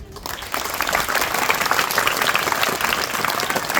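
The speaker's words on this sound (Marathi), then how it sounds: "प्रथमतः मी अमोल सरांसाठी जोरदार टाळ्या." An audience at a Baraskar Academy police recruitment event gives loud applause for a teacher: thick, continuous clapping that swells after a brief start and holds steady.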